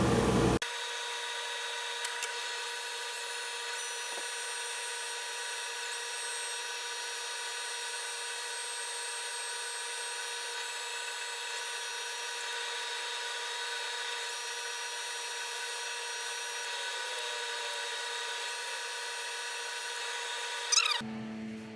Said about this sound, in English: I'm going to start with 120 grit on the power drill